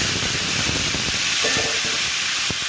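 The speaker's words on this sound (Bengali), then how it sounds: "বেগুনগুলো ভেজে নেব" Eggplant frying in hot oil with black cumin and cumin, a steady loud sizzle and hiss with a few soft stirring knocks.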